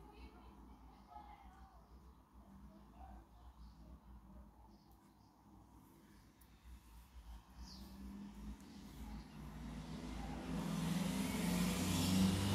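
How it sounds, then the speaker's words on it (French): A car driving past below a window in a residential neighbourhood street, its engine growing louder as it approaches, distant at first and nearer by the end, while someone speaks quietly. "C'est la voiture que vous venez d'entendre passer en dessous de ma fenêtre."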